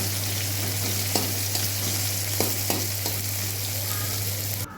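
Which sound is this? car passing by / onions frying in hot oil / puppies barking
onions frying in hot oil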